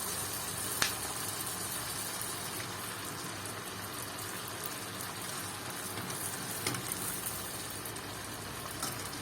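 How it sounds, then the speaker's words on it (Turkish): Steady, dense sizzling of stuffed köfte frying in hot oil in a pot, with a few sharp pops and crackles scattered through it. "Evet, yağımız ısındı. Köftelerimizi kızartmaya başlıyoruz."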